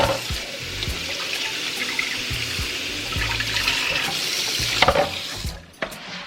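Tap water pours steadily over beef liver in a kitchen sink, a loud continuous splashing rush with intermittent thumps of handling, cutting off near the end.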